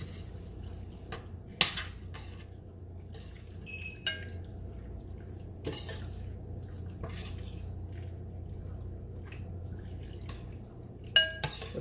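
Stirring blood into a pot of dinuguan stew, quiet clinks and scrapes of a utensil against the pot with occasional wet drips and sharper taps, close and sparse over a low background hum.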